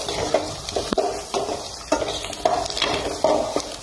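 Onions sautéing in a pan for a banana-flower stir-fry, a constant sizzle broken by regular, close scraping strokes of a spatula, roughly two per second, with no voices.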